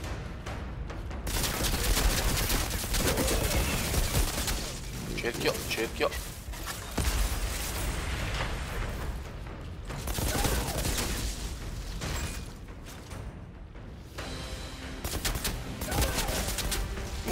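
Rapid bursts of gunfire in the video game Outriders crackle steadily throughout, with someone talking over the shooting.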